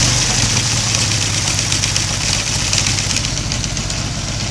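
A BSA A10 Super Rocket motorcycle engine runs with its primary cover removed, a loud, close, steady mechanical clatter and rumble that holds even throughout, with no talking.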